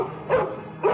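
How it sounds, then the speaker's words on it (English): A dog barks twice in quick succession, loud and close, with a short pause between the sharp, full barks and no other sound around them. "I'm sorry, that's my dog, Rocky."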